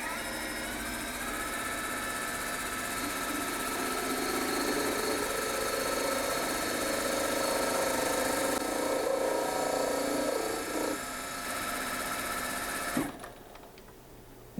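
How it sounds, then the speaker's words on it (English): A milling machine cuts a slot in wood with a steady, close whirring motor and cutting drone that holds for about thirteen seconds, then abruptly winds down to a quieter hum. "Interesting to be doing woodworking on a milling machine."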